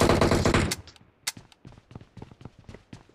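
Rapid gunfire in the battle royale game BGMI on the Erangel map: a dense automatic burst opens, then sharp single and short-burst shots crack at irregular intervals, some near and loud, others fainter.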